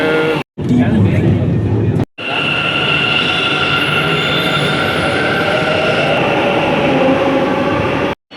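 A metro train near Mahalakshmipuram metro station rumbles along with a steady drone and high wheel whine, interrupted by brief cuts; voices are faintly audible over the ride noise.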